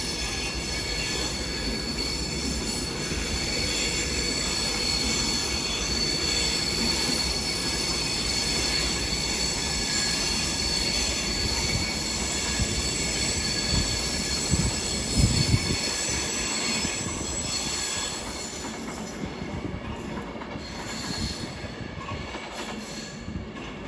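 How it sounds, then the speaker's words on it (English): An Avanti West Coast Class 390 Pendolino pulls out of a London terminus bound for Manchester Piccadilly, a steady loud rumble of wheels and motors with squealing rails building and fading over the length of the departure, no voices. "Also departing is the 1413 Advance West Coast to Manchester Piccadilly by"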